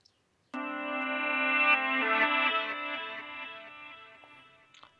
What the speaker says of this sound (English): But the delay itself is pretty short.